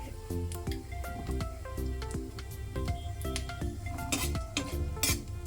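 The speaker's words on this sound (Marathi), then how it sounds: "ते पण थोडेसे फ्राय करून घेऊया" Stirring in a pan with ghee, utensil scraping and clinking against metal in a steady rhythm over a faint sizzle, as dry fruits are fried for homemade green mung ladoos; close and fairly quiet.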